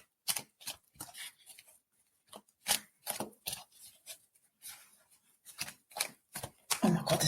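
Playing cards shuffled by hand in a quiet room, a run of short crisp riffling bursts with brief pauses between them, close and fairly soft.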